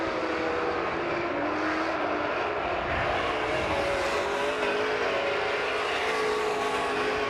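Dirt track race cars roar down the backstretch at Virginia Motor Speedway, a loud, steady engine drone holding for the whole stretch with slight shifts in pitch as the cars pass.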